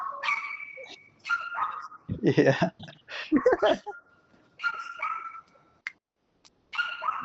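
Dogs barking outside, heard through an opened door in short repeated bursts of barks and whimpers, moderately loud, alternating with a person talking nearby.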